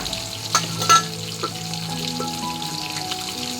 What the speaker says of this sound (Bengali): এদিকে প্রায় মাছ ভাজাটা হয়ে এসছে